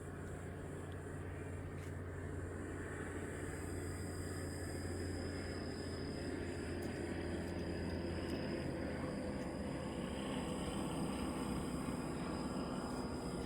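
An old, German-style propeller airplane drones overhead beneath dark clouds, a steady, sustained engine hum with a faint high whine, constant and unbroken over mountain outdoor ambience.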